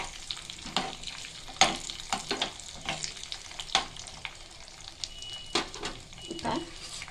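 Black raisins fry in a pan for a sajjalu sabudana payasam, with a soft sizzle broken by repeated spatula scrapes and clicks, fairly faint, with some talk over it.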